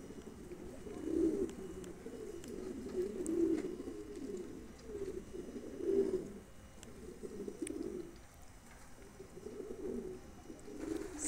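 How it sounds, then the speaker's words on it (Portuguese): Pigeons coo in a close flock, soft repeated throaty calls swelling and fading every couple of seconds over quiet background. "Tá enchendo o saco dos pombos."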